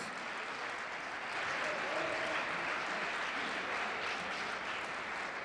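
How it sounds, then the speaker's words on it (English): A crowd at a Black History Month celebration applauds its honorees with dense, continuous clapping that swells slightly partway through and stays steady and moderately distant to the end. "Can we get a round of applause for these awesome, awesome,"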